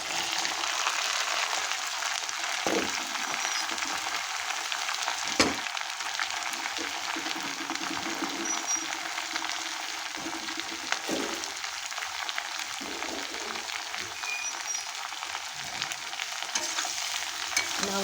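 Bottle gourd and potatoes frying in a pan, giving off a continuous dense sizzle, with occasional knocks and scrapes of a stirring spoon, close and steady throughout.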